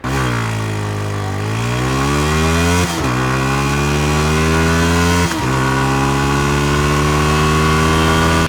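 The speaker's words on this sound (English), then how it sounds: "if you want to enjoy the R15's exhaust note, you have to push it past 7000 RPM, where the motor starts to scream" Yamaha R15 V3 motorcycle engine revving hard past 7000 RPM, a loud, screaming exhaust note that climbs steadily in pitch, with brief dips at two gear or throttle changes before rising and holding high again.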